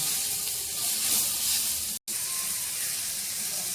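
Leaves frying in oil in a pan make a steady, fairly loud hiss and sizzle that runs throughout. It drops out for a split second midway, then carries on with no voices.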